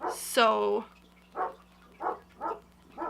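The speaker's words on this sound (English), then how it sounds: "if you can hear my dog barking in the background" A dog barks in the background, heard through an open window while a person talks close by; four short, moderately loud barks come at roughly even intervals after the voice.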